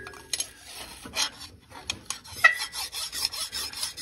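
A hand file rasps against a metal dowel pin in a Chevy bell housing, giving irregular bursts of scraping strokes with short pauses between them, close and fairly loud.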